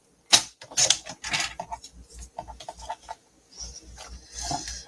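Paper strip being cut for a scrapbooking workshop kit, heard as close, crisp slicing and rubbing scrapes in a few irregular bursts with short pauses between.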